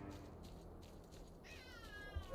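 Cats in S.T.A.L.K.E.R., faint distant meowing over a low ambient game drone, with one drawn-out wavering meow near the end.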